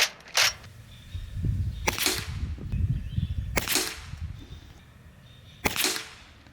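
A Reximex RPA PCP air pistol fires at a target: four sharp, close cracks come one every one and a half to two seconds over a low, rumbling background.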